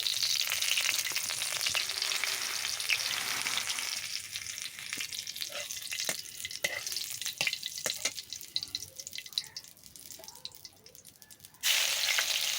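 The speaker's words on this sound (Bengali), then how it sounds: "এবারে আরও মুখরোচক টেস্টের জন্য দিয়েছি শুকনো লঙ্কা তেলের মধ্যে" Dried red chillies fry in hot oil in a wok, giving a steady, close crackling sizzle with scattered sharp pops and spits. The hiss eases in the middle and then surges back loud near the end.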